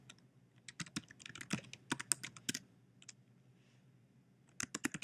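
An Apple ID email address being entered on a computer keyboard: quick, close key clicks in irregular bursts, a short pause, then another flurry of keystrokes.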